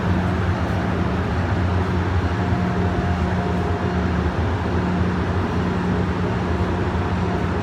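A train at a Penn Station platform on the MARC line gives off a steady, loud mechanical drone with low hum tones that holds evenly throughout, with no talk.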